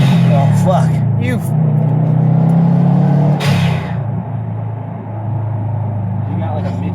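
A car engine with a freshly repaired exhaust leak revs at half throttle, making a loud, sustained rumble that eases off near the end, with voices talking over it.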